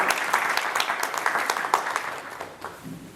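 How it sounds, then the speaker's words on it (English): Brief audience applause at a GMG vision and implementation meeting, honoring the mentors; a short, lively burst of clapping that thins out after about three seconds. "So big round of applause to these mentors who have been involved"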